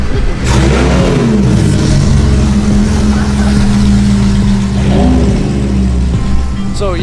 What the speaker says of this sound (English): That is the loudest Huracan I've ever heard.